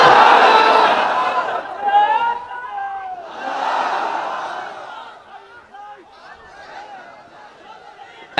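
A crowd at a nighttime Islamic sermon (waz) chants takbir together, a loud group shout of many voices that swells, fades, then rises again before trailing off into scattered murmurs.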